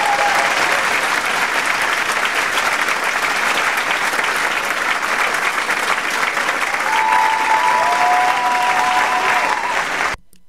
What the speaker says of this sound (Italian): rafforzare il naturale applauso che c'è stato